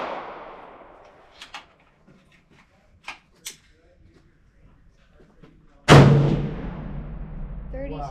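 At an outdoor shooting range, one loud, sharp gunshot booms out after a stretch of quieter knocks and handling noise, its roar decaying over the next couple of seconds, with a fading rumble before it.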